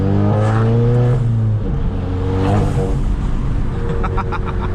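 A modified Volkswagen GTI sleeper revs and accelerates hard on a street, its engine note rising and falling loudly with a whirring, droning tone close by, with no voices heard.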